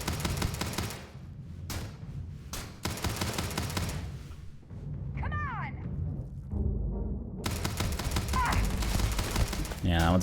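Rapid bursts of gunfire in the video game Starfield, loud and close, with short gaps between volleys and a voice talking over parts of it.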